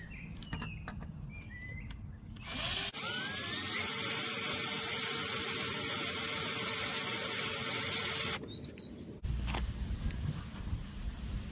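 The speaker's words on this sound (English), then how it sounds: "So I've drilled a hole here" A power drill boring a hole through the plastic lamp housing of an Opel Astra J, a loud steady high whine lasting several seconds, preceded and followed by quieter outdoor ambience with birds chirping.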